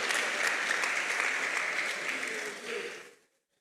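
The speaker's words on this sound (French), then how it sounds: "On acclame très fort pour la gloire de Jésus" A church congregation applauds and cheers in praise of Jesus, dense sustained clapping that swells and then cuts off abruptly after about three seconds, loud and close, with voices mixed into the crowd noise.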